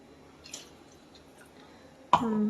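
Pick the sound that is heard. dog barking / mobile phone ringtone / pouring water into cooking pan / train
pouring water into cooking pan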